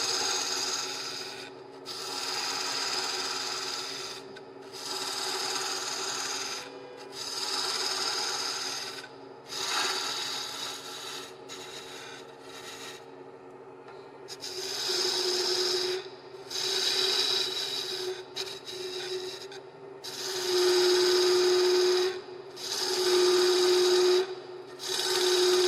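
Wood lathe roughing down a rattle blank, a raspy scraping tool cut that comes and goes in repeated passes of a few seconds each, with a steady motor hum and an occasional whistling tone between and during cuts.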